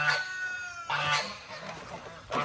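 A goose named Sonny calls in a muddy swamp at a farm animal sanctuary, giving several harsh, loud cries in quick bursts close by.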